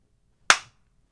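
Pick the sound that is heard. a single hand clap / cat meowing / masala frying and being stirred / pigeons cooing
a single hand clap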